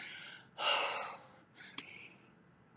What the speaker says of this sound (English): I'm going to breathe really loud now